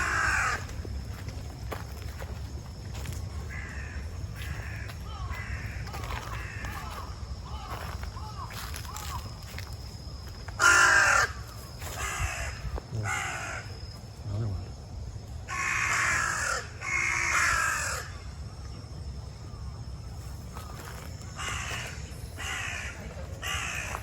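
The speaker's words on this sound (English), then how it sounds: "There's a crow." A crow in Koganei Park gives repeated harsh caws in short bursts spread across the stretch, fairly close and clear over a low outdoor hum, with no talking.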